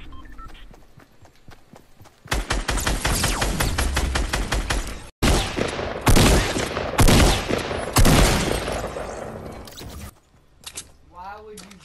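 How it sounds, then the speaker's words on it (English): Assault rifle gunfire in the Fortnite battle royale video game, rapid repeated bursts of loud shots in long rattling volleys with brief gaps, close and dominant. "Why would you jump and shoot an AR?"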